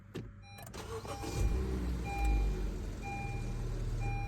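A 2016 Honda HR-V engine is started from inside the car, a short cranking catch followed by a steady low idle rumble, with a few faint electronic chimes over it.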